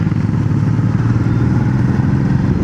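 Motorcycles ride together in a group along a hill road through the forest near Sariska, giving a steady, loud, close engine drone with a low rumbling throb and no talk.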